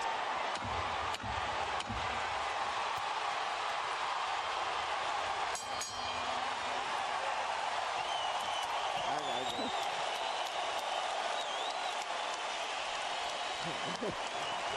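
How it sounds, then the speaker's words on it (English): Boxing arena crowd on its feet applauding a fight, a dense, steady roar of clapping and cheering that fills the whole stretch, with a commentator's voice faintly over it. "As the crowd stands en masse to applaud"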